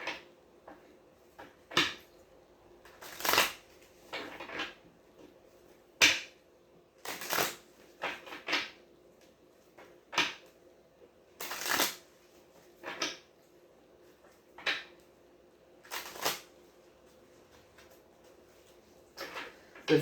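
Tarot cards are shuffled in repeated short riffling bursts, each followed by a soft tap or slap, close and clear against a quiet room with no talking.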